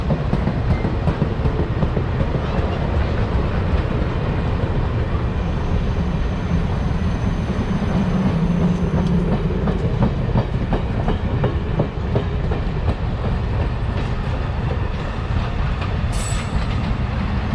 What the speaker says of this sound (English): Check it out, the Cuyahoga Valley Scenic Railroad.